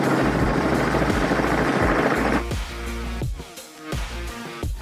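A helicopter roars steadily and loudly with a dense rotor and engine wash, then the sound drops away to a lower, rhythmic thumping drone for the remaining seconds.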